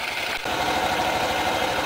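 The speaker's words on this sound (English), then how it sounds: "Hold the brake in, make sure it's on run. Now let's let it run for 2 minutes." A Honda Elite 80 CH80 scooter engine idles steadily and close, a continuous even putter with no breaks.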